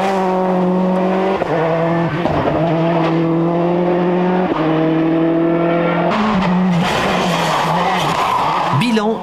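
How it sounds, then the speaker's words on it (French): A rally car revs and accelerates on asphalt during pre-rally testing for the 2002 Rally of Catalonia. The engine is loud and close, with a steady droning tone, brief dips as gears shift, and a rougher, rising surge near the end. "Ultime chauffage et c'est parti. Et petit à petit, Bruno accélère"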